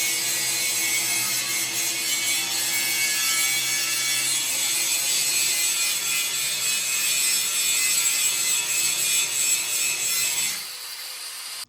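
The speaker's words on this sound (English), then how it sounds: "But we're going to start wire brushing these things, and hopefully it won't take too long, but they're pretty rusty," A wire brush scrubs heavy rust off old truck parts in a steady, rapid scraping rasp, close and continuous for about ten seconds before cutting off abruptly near the end.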